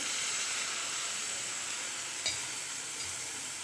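A piece of potato frying in a pan with sautéed chillies, giving a steady, loud bright sizzle and hiss throughout, with a brief clink partway through and no voices.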